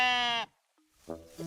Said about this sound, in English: Oh, look, the sheep.